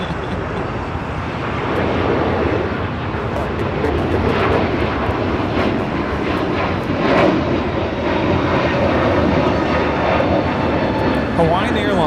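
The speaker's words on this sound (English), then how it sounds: "Hawaiian Airlines Flight 63 taking off to Lihue on the A321neo" A Hawaiian Airlines Airbus A321neo airliner takes off from Los Angeles bound for Lihue, its engines giving a strong, steady roar that swells slightly partway through. A voice talks over the engine noise.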